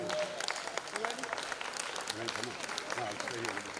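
Applause from an audience at an Academy of Hospitality & Tourism event for Linda Wilson of the Fund 2 Foundation, steady clapping with voices talking and calling out over it.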